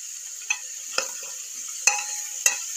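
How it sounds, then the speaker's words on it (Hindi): Close, steady sizzle of baby jackfruit frying in oil, with a few soft clinks of a spoon stirring at irregular intervals. "इसी तेल में कटहल को भी फ्राई कर लेती हूँ।"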